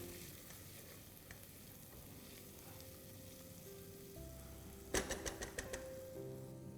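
Soft tomato masala with chilli powder and garam masala sautés in a pan, a quiet steady sizzle with a burst of spoon scraping and clatter near the end.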